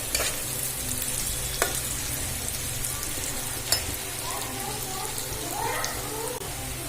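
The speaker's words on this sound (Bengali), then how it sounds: "পেঁয়াজটা ভাজা হয়ে এসেছে।" Onions fry in a pan with a steady, dense sizzle throughout, broken by a couple of sharp spoon clicks, close and without talk.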